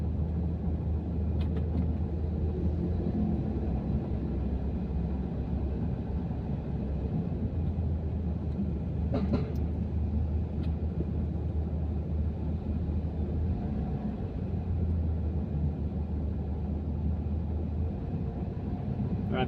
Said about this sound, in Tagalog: Medyo traffic mga tepo dito sa may Jollibee